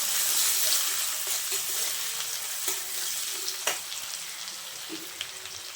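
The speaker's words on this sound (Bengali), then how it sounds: "পেঁয়াজটা খুব ভালোভাবে ভেজে নেব, লাল লাল করে।" Chopped onions fry in a pan until browned, a continuous close sizzle that fades slightly over time, broken by occasional clicks and scrapes of stirring.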